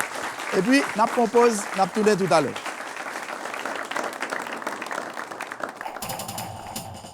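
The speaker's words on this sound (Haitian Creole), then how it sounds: "Nous applaudissons nos intervenants." Audience applause at a forum on the judicial system: someone speaks in French over clapping, then a steady wash of many hands continues alone until the end.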